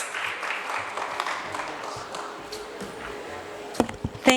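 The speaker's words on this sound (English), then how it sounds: "I'm sure we can welcome her with some bit of applause" Audience applause welcoming a keynote speaker onto a stage at a daytime event, a soft steady patter of many hands that fades, followed by a few louder knocks near the end.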